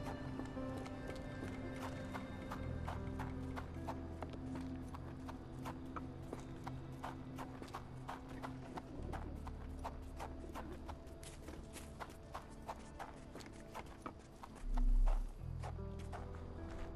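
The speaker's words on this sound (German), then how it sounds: "Oh, hübsches Pferd." Horse hooves clip-clop steadily through a New Orleans street scene in the Sherlock Holmes The Awakened video game, a regular rhythm of hoof strikes over ambient background sound, with a short whinny near the end.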